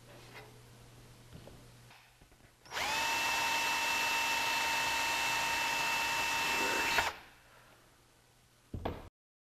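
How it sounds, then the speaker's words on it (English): A power drill with a number 40 bit bores holes in the aluminium fuselage skin of a Zenith CH701 kit aircraft. After a quiet lead-in, a single loud, steady high whine runs for about four and a half seconds, followed by a short clatter. "I'm going to start off with the number 40 drill, which is the smallest, and then enlarge it up to the size 30"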